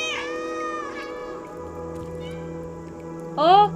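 Cat meowing in the video game Stray, a few clear, close meows at the start and again near the end, with quiet background tones between them.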